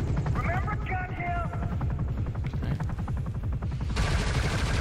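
Rapid gunfire rattles in dense bursts through a video game boss fight against an attack helicopter, with a rotor-like whine and explosions layered over loud, continuous gameplay noise.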